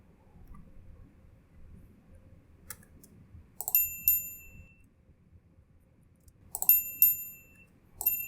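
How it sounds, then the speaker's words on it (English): Mouse click sound effects used in video editing, a few crisp, quiet clicks, two of them followed closely by bright bell dings, over a near-silent background. "the next thing I'm going to look for is mouse clicks"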